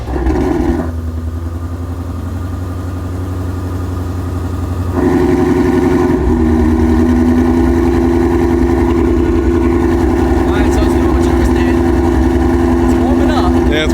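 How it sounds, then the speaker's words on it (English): A Shelby GT350 engine fitted with new cams cranks and fires, jumps to a loud, high idle and then holds a steady, throaty rumble close by. People talk over it. "Fire her up, Terry."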